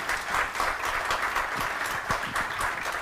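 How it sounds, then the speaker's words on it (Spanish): Audience applause following a talk on AI ethics at an innovation event, a steady, dense wash of many hands clapping at close range that fills the whole stretch with no pauses and no voices. "que le brindamos un fuerte aplauso"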